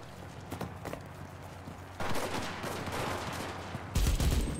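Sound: gunfire in the video game Enlisted

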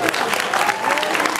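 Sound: applause for both fighters at kickboxing event

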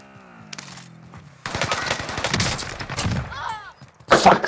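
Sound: gunshots in a video game

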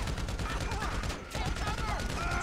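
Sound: gunfire in video game GTA 5

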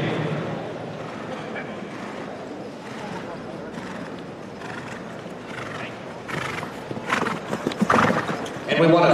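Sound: stallion horse walking and neighing at harness horse sale

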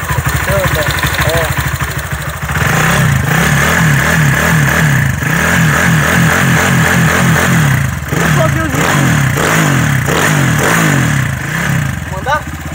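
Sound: Honda CG 160 motorcycle with 190 kit revving

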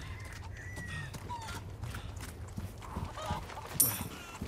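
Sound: chicken clucking in Resident Evil 4 Remake video game

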